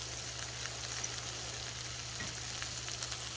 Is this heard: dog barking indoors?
no